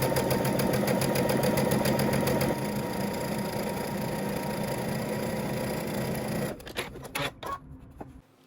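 A sewing machine runs in a fast, continuous mechanical whir while stitching close to the edge of a dress bodice seam. It stops near the end, giving way to a few short clicks and handling noises.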